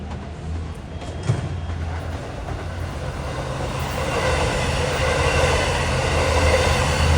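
A Long Island Rail Road train from Oyster Bay to Hunters Point Avenue rolls through Queens Village station during the morning rush, a low rumble that swells steadily louder as it approaches, with a brief clank early on.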